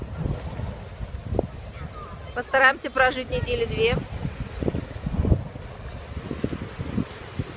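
Gusty cold wind off the Sea of Azov buffets the microphone at a campsite in low rumbling bursts while a person speaks briefly over it.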